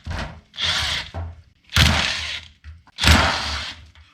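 A power tool removes 10 mm bolts from the oil pump of a Mercedes M117 engine, running in three loud, close bursts of roughly a second each with short pauses between them.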